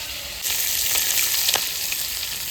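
Kokila fish fries in a pan over a wood fire, giving a steady, close sizzling hiss with a few sharp crackles and pops and no voices.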